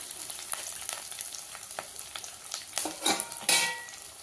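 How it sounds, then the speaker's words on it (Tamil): Onions sizzle steadily in a hot pan while a utensil stirs, with occasional sharper scrapes and clinks near the end. "வெங்காயம் வதங்கிடுச்சுங்க."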